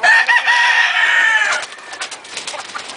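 Two hens, of a sweater chicken flock from America, cluck close by, loud throaty calls at first that give way to softer, scattered clucks and rustling.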